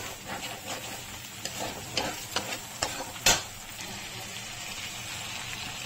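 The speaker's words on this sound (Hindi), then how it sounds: "अब ये देखिए हमें मसाला भूनना है।" Masala spices for bhindi fry in oil with a steady crackling sizzle, broken by repeated soft scraping stir strokes and one sharper clack, heard close with no talking.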